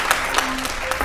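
Brief burst of studio applause on a family quiz game show, a dense steady clatter of clapping hands lasting about a second.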